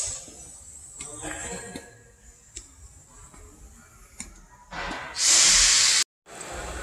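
WD-40 sprayed onto wheel studs in a workshop during a tire rotation: scattered small ticks and handling noises, then a loud close spray hiss lasting about a second before cutting off, followed by faint background noise.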